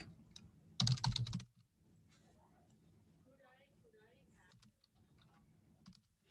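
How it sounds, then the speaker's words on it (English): Typing code on a computer keyboard in a Unity game-design workshop: a short, loud burst of rapid key clicks, then soft, scattered taps under a quiet voice. "as I'm typing out"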